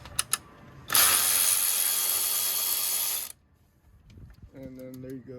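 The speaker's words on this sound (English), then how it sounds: "first we're gonna remove the upper T25 radiator support screw" Close and loud, a ratchet turns the upper T25 radiator support screw on a BMW E46 M3 in a steady two-second whir, framed by a few clicks and a voice speaking after it stops.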